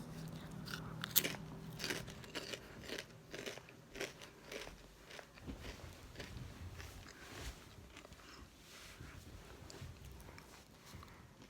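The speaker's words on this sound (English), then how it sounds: "Sorry if my chewing is annoying you." Someone chewing food close to the microphone, crunchy bites and wet mastication in an uneven rhythm, loudest at the start and softer later, with no speech.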